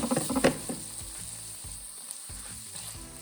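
Garlic and ginger added to a hot pan for a curry, an initial burst of spattering and clatter settling into a steady, moderate sizzle with faint stirring, no voices.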